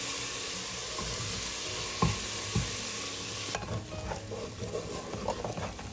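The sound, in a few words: onions being stirred and sautéed on low heat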